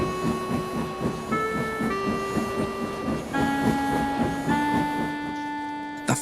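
Steam locomotive setting off, with rhythmic chuffing and hiss under sustained whistle-like tones that step in pitch, loud and continuous throughout.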